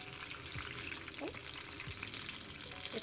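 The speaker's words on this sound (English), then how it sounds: "So normally, if it's still bubbling and making sounds like this, it means that there's still moisture left in the chicken." Stuffed chicken frying in oil on a stovetop, bubbling with a steady, soft crackling sizzle throughout and a few faint clinks of stirring or handling.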